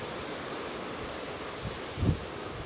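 Steady broadband wind roars through the open air during Hurricane Hanna's landfall on Padre Island, a constant rushing hiss with a couple of brief low gusty thumps near the end.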